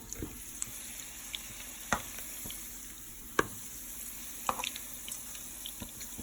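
Bacon-wrapped hot dogs sizzle quietly in a pan while being lifted out, a soft steady frying hiss broken by a few sharp clicks and clinks of utensils, with no talking.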